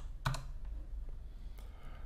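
A few quiet keystrokes on a computer keyboard, clicked while working in Houdini 3D software, with one sharp double tap standing out over a low background hum.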